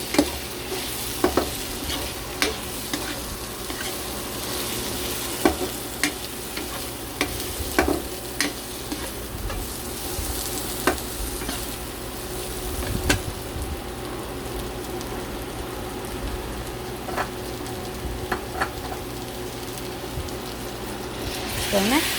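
Potatoes and carrots for beef mechado go into a pan and get stirred, making a continuous crackling sizzle with repeated sharp clicks and scrapes of the utensil against the pan.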